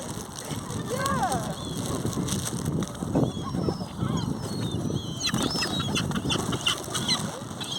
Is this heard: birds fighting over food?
yes